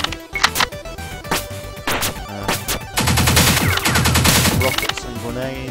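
Rapid arcade-style shooting and impacts in the twin-stick game Pineapple Smash Crew, scattered blasts at first, then a sustained loud stream of fire with crashes layered on top.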